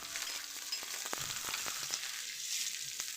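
Chopped onion and two green chilies sauté in a pan, giving a soft, steady sizzle with a few light taps and stirring clicks, faint and close.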